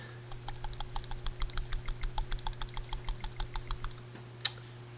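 Loose ball rattling inside a cleaned PCV valve from a 2001 Honda Insight, heard as a rapid, regular series of small sharp clicks, fairly faint over a steady low hum, stopping near the end.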